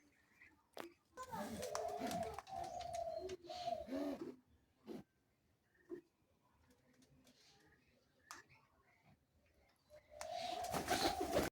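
Pigeons on a backyard pigeon farm coo in short, close, throaty bursts, separated by quiet gaps with small clicks and rustles.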